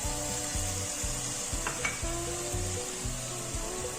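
Slit green chillies sauté with garlic and ginger in a pan for Kerala chicken perattu, sizzling loudly and constantly, with a brief metallic clink partway through and no talking.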